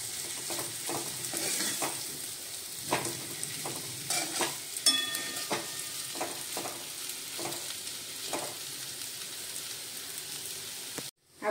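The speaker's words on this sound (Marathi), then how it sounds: "कोथिंबीर सर्व आता हे मिक्स करून घेऊया" Potato curry with fresh coriander being stirred in a pan after the heat is off, a soft steady scrape and faint sizzle with spoon knocks and clicks, no talking.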